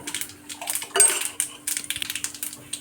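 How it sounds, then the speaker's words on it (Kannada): Mustard seeds splutter in hot oil for a Madras-style rasam, throwing out close, irregular sharp pops and crackles in quick bursts over a quiet background. "ಈಗ ಸಾಸಿವೆ ಚಿಟ್ಲಿದೆ."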